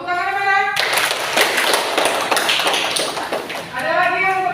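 A classroom of students breaks into a burst of applause lasting about three seconds, dense and close, with a teacher's voice talking before and after it.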